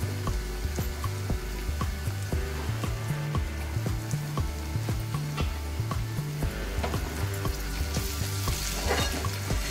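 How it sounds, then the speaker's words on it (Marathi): Chopped tomatoes go into onions already frying in a pan for a drumstick pod masala, giving a steady, close, crackling sizzle throughout, with low music running underneath. "कांदा थोडा शिजत आलेला आहे, त्यामध्ये आपण आता टोमॅटो टाकणार आहोत"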